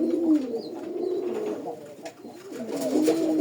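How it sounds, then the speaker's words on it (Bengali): A pair of Golla pigeons coo close by in soft, rolling, repeated calls, continuous and clear with little else around them. "আমি কবুতরের ডাকটা একটু দেখাই দিই, দেখেন ডাকটা দেখেন"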